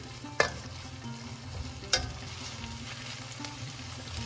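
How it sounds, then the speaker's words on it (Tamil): Coriander paste stirred and sautéed with onions in a pan over a low flame, a steady sizzle broken by two sharp spoon scrapes against the pan, close and without talk. "இப்போது அரைச்சி வச்சுருக்கிற இந்த கொத்தமல்லி பேஸ்ட்டையும் இதோடு சேர்த்துடணும் ஸ்டவ்வை சிம்மில் வச்சு இதை நல்லா திருப்பி விடணும்"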